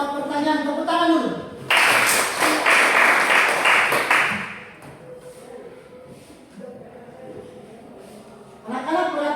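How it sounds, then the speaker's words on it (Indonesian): Students in a junior high school mathematics classroom clap together in a loud burst of applause lasting a few seconds, rising abruptly and fading out, with a teacher's voice speaking before and after. "Tepuk tangan dulu"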